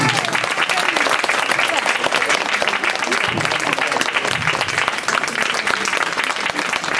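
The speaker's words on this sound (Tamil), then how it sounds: "இந்த குழந்தைக்கு வந்து நம்ம முதல்ல ஆரவாரமாக ஒரு கைத்தட்டலை கொடுக்கணும்" At a Perambur temple Thirukalyanam celebration, a crowd gives a child dancer loud, dense, continuous applause, a thick wash of many hands clapping together without pause.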